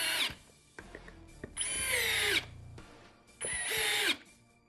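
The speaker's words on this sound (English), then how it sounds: "let's test this drill out on a gnarly piece of walnut" Cordless drill driving screws into a gnarly piece of walnut, two loud sustained whirring bursts of about a second each with brief quieter clicks and pauses between, close up with no talking.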